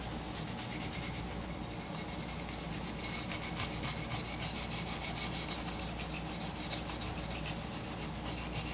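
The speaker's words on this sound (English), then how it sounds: "we're going to be taking that scuff pad and we're going to be just scuffing up" A scuff pad rubs steadily over the painted surface of a vape mod, giving a continuous close, dense scratching and rasping that holds even and unbroken throughout, with no talking.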